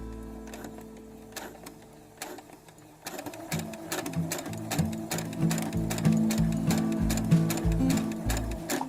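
A sewing machine runs a seam in black thread, 0.5 cm from the edge around pinned fabric for a cup coaster, starting after a quiet moment and settling into a fast, steady, rattling stitch rhythm close by.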